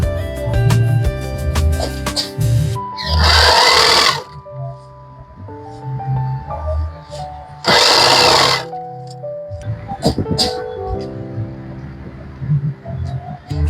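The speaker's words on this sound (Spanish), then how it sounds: "Aquí guardamos el forro para poder pasarle una costura aquí." A sewing machine stitches the lining of a handmade backpack in two loud, steady bursts of rapid whirring, with quieter handling and fabric noises between them.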